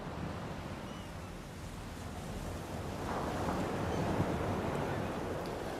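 Ocean waves play from an ambient stream as a soft, continuous wash of surf that swells slightly louder partway through, steady and broadband, with no talking.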